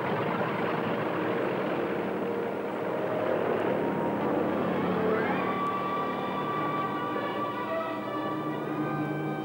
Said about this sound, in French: Deux escadrilles de 81 bombardiers décollent pour Berlin.